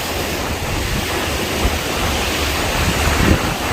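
Strong wind buffets the microphone at Tsilivi Beach at night, with a continuous roar of surf rolling underneath, loud and steady without a break.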